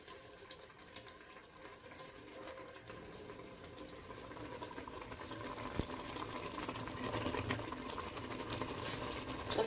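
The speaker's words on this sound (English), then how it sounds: "See, it's boiling now." A pot of water boils on the stove while maize meal is being added for a traditional porridge dish, with a steady bubbling and hissing texture that swells slightly louder toward the end.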